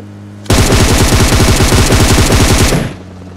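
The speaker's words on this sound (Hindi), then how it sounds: "अबे गोली क्यों मार रहा है कान पे" Gunfire in a video game shooter: a loud, close burst of rapid automatic fire lasting over two seconds, with evenly spaced rattling shots and an abrupt start and stop.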